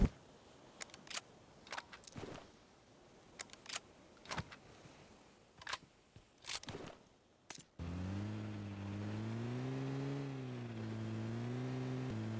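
Car driving in the BGMI battle royale game, first scattered clicks and rattles, then a steady engine hum rising and falling as the vehicle moves, close and continuous.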